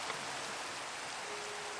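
Steady rain falls in Minecraft as an even, hissing wash of static with no breaks over a couple of seconds, faint and uniform, with no voices.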